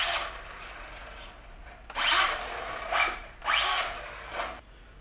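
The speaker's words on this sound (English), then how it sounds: "This is the noise that I'm hearing, so I think it's a spur." Traxxas Slash 4x4 RC car with a damaged, chipped spur gear, a harsh grinding whir rising and falling in several bursts, loud and close with no talk.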